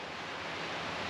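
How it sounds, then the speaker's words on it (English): Waves break over a rocky beach on the Georgian Bay shoreline, a broad, constant roar of surf with a slight wind-like hiss, loud and unbroken for a moment. "You can hear the waves crashing over the rocky beach right now."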